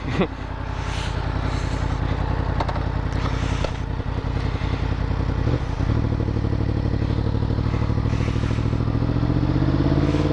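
A Yamaha FZ-10 (MT-10) motorcycle fitted with a Yoshimura exhaust idles and then pulls away, its engine note rising into a steady, loud drone close by, with some mechanical clatter and no talk.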